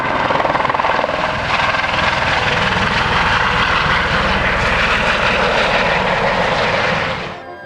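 A Maverick helicopter near the Grand Canyon roars loudly and steadily from close by as it takes off, a dense rotor and turbine drone that cuts off at the end.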